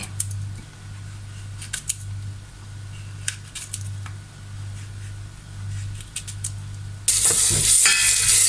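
Garlic and bird's eye chilies hit hot oil in a Thai kitchen with a sudden loud burst of sizzling frying that continues steadily, after quieter clicks and a low background hum.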